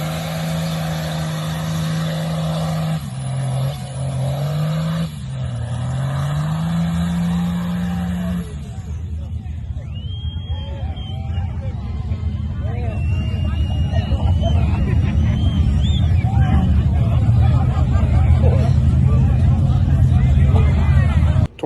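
A race truck does a burnout: the engine drones steadily, then revs surge into a loud, roaring tire squeal with gritty, growing noise that builds to the end, up close and overpowering.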